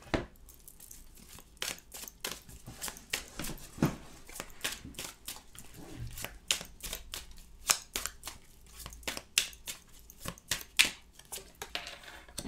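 Tarot cards shuffled and drawn by hand during a French tarot reading, a long run of quick, crisp papery flicks and slaps in uneven bursts, close and fairly quiet, with no voice.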